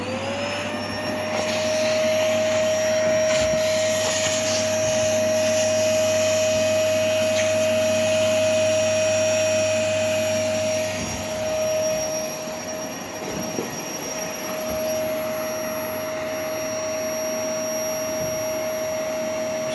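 A vacuum cleaner pulls a thin, light string through electrical conduit clogged with construction debris, giving a loud, steady motor roar with a constant high whine that runs unbroken throughout.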